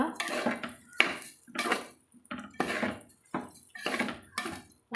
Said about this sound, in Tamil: நல்லா கலந்து விட்டுக்கலாங்க